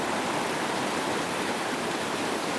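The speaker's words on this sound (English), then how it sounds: "because the creek is flowing so deep right now" A deep, fast-flowing creek near Chiquito Falls rushes loudly and steadily, a dense, even roar of water close by with no voices.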